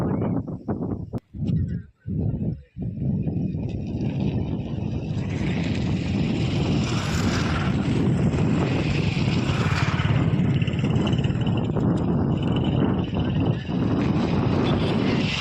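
Hot, dry summer wind gusts across parched countryside, buffeting close with a broad rumbling roar that starts in short bursts and then blows continuously.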